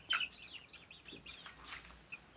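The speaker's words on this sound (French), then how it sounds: "Juste savoir si c'est bien des poules" Chickens, young hens, cluck and chirp softly nearby in a quick run of short, high calls, faint and close.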